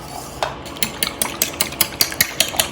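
Two eggs being beaten by hand in a bowl with a utensil, giving a steady run of quick, crisp clicking strokes at an even rhythm, close and alone.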